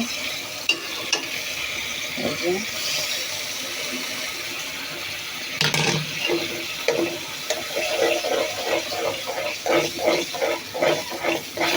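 An egg dropped into a hot pan with water, frying into a continuous sizzle that swells after a sharp splash, then settles into rhythmic stirring scrapes near the end, with no talking.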